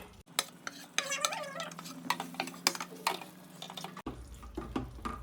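Fried eggs go into a pan of simmering egg curry gravy with close stirring and scraping, light clinks of a utensil against the pan, and a soft sizzle underneath, with one brief break partway through.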